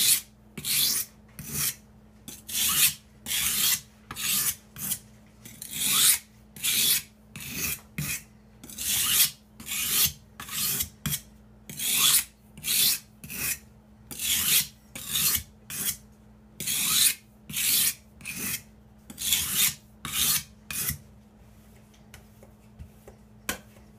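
A knife blade drawn repeatedly across a whetstone, about two dozen close, rhythmic rasping strokes in steady succession with brief pauses between, ending in quiet.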